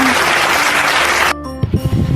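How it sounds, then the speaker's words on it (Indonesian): Classroom of students clapping together in a dense, loud burst that cuts off abruptly, followed by a few scattered claps and voices. "Beri tepuk tangan untuk kalian semua."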